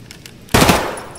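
A loud burst of automatic gunfire from the video game Escape From Tarkov erupts suddenly after near-quiet, sounding as a dense rapid volley that rings out and fades.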